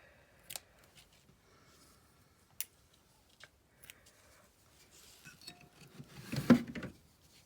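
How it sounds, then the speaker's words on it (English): Scissors are handled at a craft table while paper tags are made with string: a handful of sharp, quiet snips and metallic clinks, spaced apart, ending in a brief rattling cluster, with no talking. "Scissors, skizzers."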